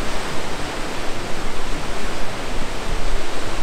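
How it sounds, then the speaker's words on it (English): A waterfall with several levels of cascading falls roars in a steady, dense rush of water that stays loud and unbroken throughout, with no voices. "It's absolutely gorgeous with the multiple levels of cascading falls."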